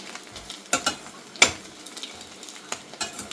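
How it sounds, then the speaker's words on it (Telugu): Pieces of egg fry with turmeric in a pan, giving a soft steady sizzle under several sharp scraping and stirring clatters spread across the clip. No one speaks. "పసుపు కొంచెం వేగనిచ్చాక ఈ ముక్కలన్నీ తీసేసుకోవాలి"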